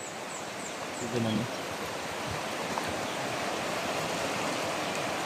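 Strong floodwater rushing around a flooded house during an evacuation, heard as a steady broad roar of flowing water with someone speaking briefly over it near the start.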